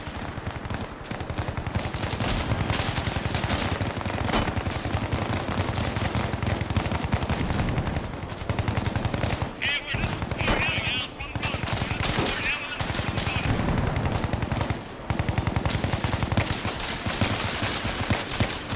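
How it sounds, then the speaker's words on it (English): Sustained suppressive gunfire in the video game Bellum, a dense continuous roar of rapid automatic shots with bursts layered throughout, loud and unbroken for the whole stretch. "We're holding suppressive fire."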